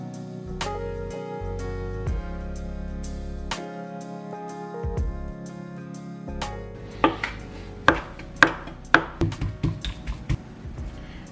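Pork being hand-chopped with a knife for dumpling filling, starting with a few scattered knocks and building into a quick rhythmic run of sharp cleaver strikes on a board, close up.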